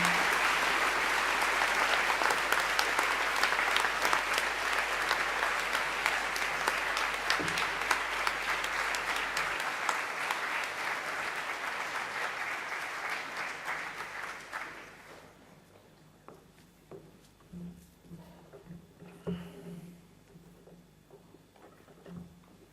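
Loud, dense applause from a school assembly congratulating its scholars, sustained for about fifteen seconds before thinning into scattered claps and faint crowd noise.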